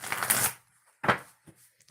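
A tarot card deck being shuffled by hand, with a dense riffling burst followed by a second short shuffle and a soft final tap, close and fairly loud with no talking.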